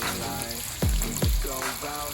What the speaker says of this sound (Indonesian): minyaknya itu sudah panas, tinggal dijegurkan saja guys